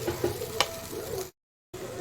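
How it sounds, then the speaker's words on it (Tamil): Tamarind gravy with tomato and onion simmers in a pot for a yam tamarind kuzhambu, a steady bubbling hiss with a brief knock, cut by a short gap of silence. "இப்போ புளி கரைச்சல், தக்காளி வெங்காயம் எல்லாம் நல்லா 2-3 கொதி வரட்டும்."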